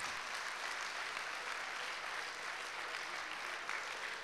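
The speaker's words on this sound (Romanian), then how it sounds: "Și încă o dată aplauze pentru că au 10 ani." A business-event audience gives steady, dense applause for ten-year entrepreneurs, heard faint and distant as an even wash of clapping with no pauses or voices.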